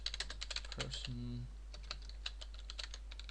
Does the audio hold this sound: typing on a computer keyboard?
yes